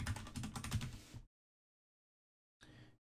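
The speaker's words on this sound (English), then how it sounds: "we're going to type the password that we set." Quick clicking keystrokes on a computer keyboard while a password is entered, a close, quiet burst of typing that stops, goes silent, then resumes with a few more taps.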